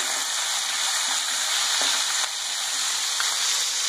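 Ginger garlic paste sizzling in hot oil with green chilies, stirred in a pan for cumin rice, giving a steady close frying hiss with occasional faint scraping of the spoon.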